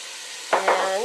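Finely diced celery drops into a hot pot for marinara sauce and bursts into a loud sizzle that starts abruptly and keeps hissing steadily, close by with no talk.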